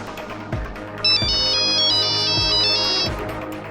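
A telephone ringtone in a courtroom drama sounds as a repeating electronic melody of short chirps, loud and close, over low background music with periodic thumps.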